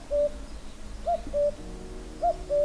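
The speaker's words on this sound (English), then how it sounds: "Can you guys hear the cuckoo?" A cuckoo calls outdoors in spring near a stone wall, its two-note coo repeated twice in a slow, clear rhythm at moderate distance.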